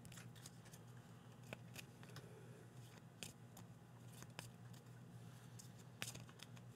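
A deck of trading cards for the Transformers TCG being shuffled, quiet crisp riffling snaps repeating irregularly over a low steady hum.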